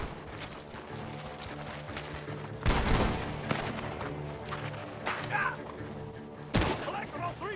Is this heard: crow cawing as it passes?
no